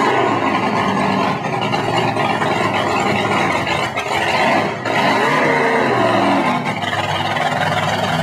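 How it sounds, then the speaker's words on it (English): A Chevrolet aluminum block ZL1 427 engine, the first one made, running loud and steady at an outdoor classic car show, its rumble rising and falling slightly. "Now that's an aluminum block ZL1 427 motor, the first one made."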